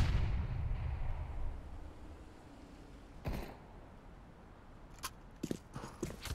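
Grenade going off in a video game firefight: a loud low rumbling blast at the start that fades out, followed by scattered sharp shots and thuds, with no talking.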